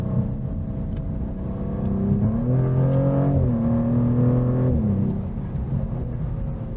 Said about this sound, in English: snort from the exhaust as you change up and the throttle cuts.